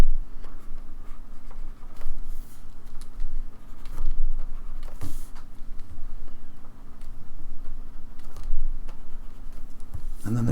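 A pen or pencil drawing on paper, with scratchy strokes and soft taps coming in short, irregular bursts at close range over a low, steady background hum.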